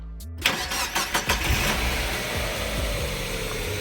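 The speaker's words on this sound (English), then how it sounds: "Let's start the car up." A Mazda MX5 fitted with performance mods cranks with a brief starter whir, then catches and fires with a few loud, sharp revs before settling into a rumbling, steady idle close by.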